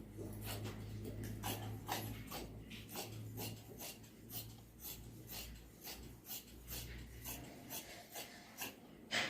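Scissors cut through fabric for ladies' pants, a run of rhythmic, close-up snipping and rasping strokes that continues steadily throughout.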